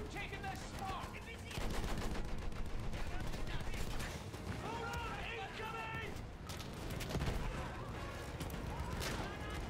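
Dense gunfire and battle noise in Battlefield 1 runs throughout, with bursts of automatic fire layered over continuous rumbling combat, and voices are heard among it.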